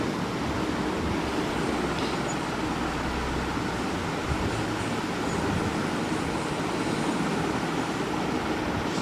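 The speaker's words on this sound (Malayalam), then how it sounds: "ട്രെയിൻ നല്ല സ്പീഡിൽ പോയിക്കൊണ്ടിരിക്കുക." Train speeding along in the video game Spider-Fuser: a steady, loud rumble of rail travel with constant broadband wind-like roar and low clatter throughout, no pauses.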